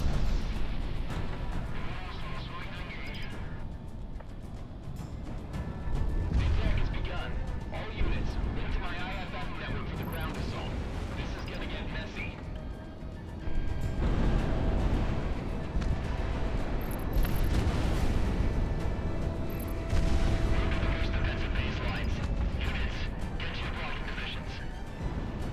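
Artillery shelling from a building in the VR flight game Project Wingman booms in heavy, rumbling blasts over a steady roar of engine and combat noise, with several dull impacts spread through the stretch.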